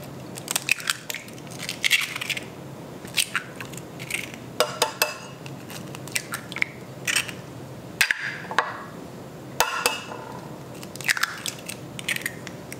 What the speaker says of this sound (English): Let's crack in 6 eggs.